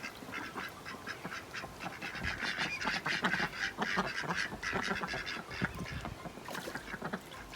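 A flock of ducks quacks continuously and loudly on the water, the harsh calls overlapping in a busy, chaotic chorus.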